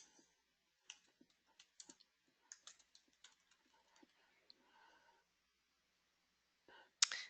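Light, irregular keystrokes on a computer keyboard tap out in short bursts, quiet and close in an otherwise hushed room, with a brief pause before a final sharper click.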